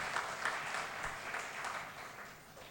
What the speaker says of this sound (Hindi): एक बार राजेश जी के लिए भी तालियां बजाइए साहब।